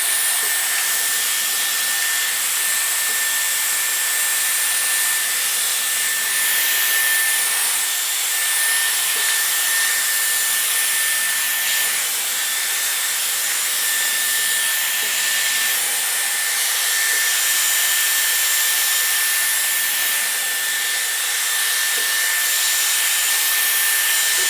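A Dyson Airwrap hair styler blows continuously at close range, giving a loud, steady airy whoosh with a high whine that lasts the whole stretch, with no talking.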